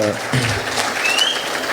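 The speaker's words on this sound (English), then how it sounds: "Round of applause, brother." Audience applause fills a talk-show hall, a dense, steady wash of many hands clapping close by, with a brief voice at the very start.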